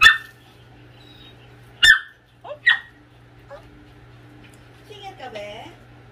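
A dog gives sharp yips and short whimpering cries, a few loud bursts near the start followed by quieter whines, with faint human voices in between.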